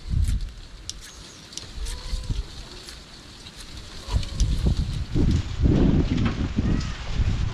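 Gusty wind buffets the microphone in low rumbling bursts, growing stronger in the second half, with faint animal and bird calls in the background.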